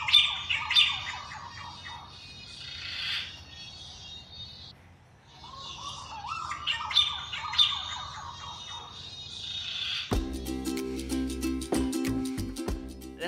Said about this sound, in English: it makes like a whistling quacking sound.